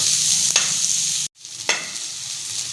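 Onions sizzle and fry in a pan while being stirred, with scraping strokes around half a second and again later, a brief silent break in between, and a steady hiss throughout with no talking.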